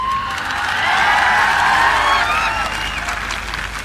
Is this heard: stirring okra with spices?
no